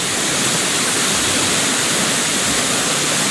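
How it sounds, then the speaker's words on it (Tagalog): Floodwater rushes past in a dense, unbroken roar, loud and close, like a swollen torrent with no pauses or other sounds standing out. "Ang lakas ng baha."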